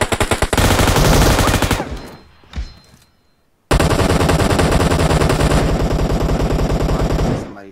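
Rapid automatic gunfire from a video game team deathmatch shootout, loud, dense bursts of shots, a brief lull near the middle, then sustained firing again to the end.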